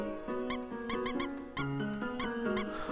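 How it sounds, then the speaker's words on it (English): A cheese squeaking in the Undertale video game, heard as a quick string of high chirpy squeaks over a steady chiptune-style musical background, with no talking. "Oh, it makes a squeaking noise."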